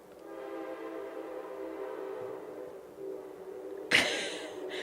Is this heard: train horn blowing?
yes